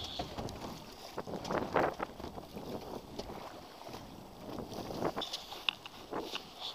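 Electric trolling motor running on a squid-fishing boat out at sea, with the main engine switched off: a faint, thin whine that comes and goes under steady wind and water noise.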